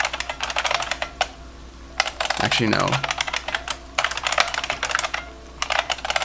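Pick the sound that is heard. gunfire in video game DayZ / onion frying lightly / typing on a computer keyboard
typing on a computer keyboard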